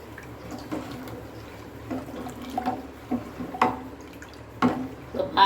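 Water poured into a pot while cooking tender coconut payasam, a soft liquid splashing and trickling with faint clinks of utensils, close and fairly quiet.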